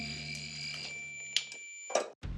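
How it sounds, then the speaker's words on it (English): A REM pod, a ghost-hunting device, gives a steady high-pitched electronic beep tone with a few soft clicks, then stops abruptly, at Hales Bar Dam. "If something moves into that field, they let off a beeping noise."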